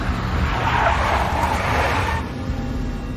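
Tires squeal as a big black Mercedes skids in the Max Payne video game, a sustained screech over engine rumble that cuts off abruptly after about two seconds, leaving a lower engine hum.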